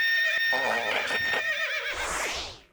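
A comedic donkey bray sound effect plays as a loud, wavering, whinny-like cry that rises and falls for a couple of seconds, then breaks into a harsh exhaled tail that fades out.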